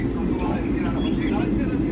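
A passenger train near Ottapalam, heard from a seat by the door, gives off a continuous loud rumble and clatter with rattling and hiss over it.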